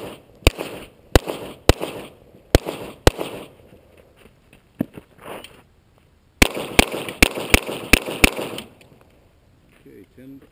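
Glock 35 pistol shots crack sharply at a shooting practice, fired in quick strings of five or six with a pause between bursts, loud and close with voices talking around them.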